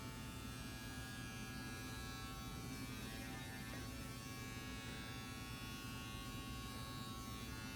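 Fully charged electric hair clippers buzz steadily and close up while cutting hair during a self-done fade haircut. The hum is continuous and even throughout, with no talking.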